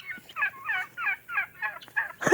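A farm turkey gobbles in a run of about seven quick, warbling bursts spaced at a steady rhythm, close and clear against a quiet background, with a sharper cry at the very end.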